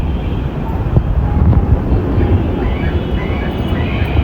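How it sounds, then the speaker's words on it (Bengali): A passing airplane overhead makes a loud, continuous low roar and rumble after heavy rain, heard steadily throughout. "না সরি মেঘে ডাকতেছে না এই যে বিমান যাইতেছে তো এটারই শব্দ"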